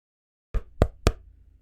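Three quick knocks on a heavy hardcover book, close and dry, spaced about a quarter second apart after a moment of silence, with a short dull resonance trailing off.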